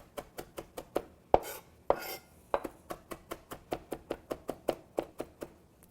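A knife chops rutabaga stems on a cutting board in a quick, steady run of crisp taps, roughly three or four per second, with a couple of heavier knocks and a brief scrape near the start.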